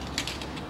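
A greased ball-joint bolt on a Chevrolet Trailblazer is tightened during front drive seal work. A single quick, close burst of ratchet clicking lasts under a second.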